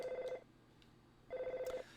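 A telephone rings in the SNES game EarthBound, with two short, electronic trilling bursts separated by about a second of quiet, clean and close with no talking.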